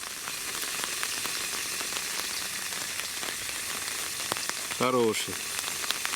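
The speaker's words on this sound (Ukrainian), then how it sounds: "Просто ливень пустився." A heavy downpour patters onto an umbrella at a riverside feeder-fishing spot, a dense constant hiss with scattered sharper drops, and someone speaks briefly near the end.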